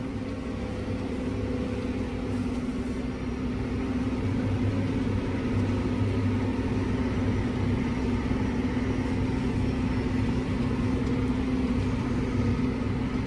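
CLAAS combine harvester driving slowly along a guidance line at 4–7 km/h, a steady loud engine drone with a constant low hum and no breaks, heard from inside the cab.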